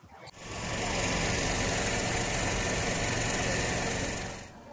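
An incinerator machine run by Surabaya police destroys seized narcotics and liquor, giving a loud, steady mechanical roar that starts abruptly, holds evenly for several seconds, then eases off near the end.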